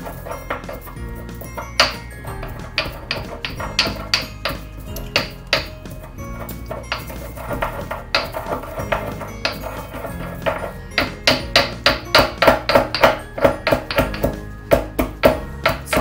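Fennel seeds for biscotti are crushed with a run of rhythmic knocking and clinking strikes, uneven at first, then faster and more regular toward the end.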